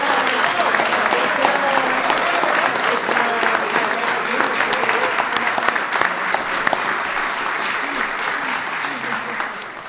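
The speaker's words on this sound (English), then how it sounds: "He's worth the standing ovation." A standing ovation at a White House event welcoming the Warriors basketball team, with dense, loud applause and crowd cheering that holds steady throughout, some voices mixed into the roar.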